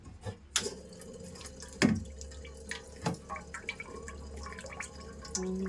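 Sparse, irregular drops of water plink one by one from a faulty water purifier nearby in a quiet room, with a faint background hum.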